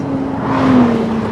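A Ferrari 296 GTS with a V6 engine drives along, its engine a steady, loud drone that swells slightly midway, heard alone on a 42 °C day.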